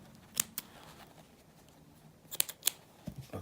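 Scissors snip back hammock strands, a few sharp close cuts: two early, then a quick pair later, with a soft handling rustle at the end.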